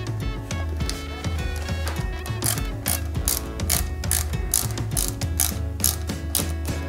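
Small PS 0.5 screws are driven into the dashboard of a Bugatti Veyron 16.4 Super Sport scale model. A close, rapid clicking ratchet-like rattle repeats in quick bursts throughout, with no talking.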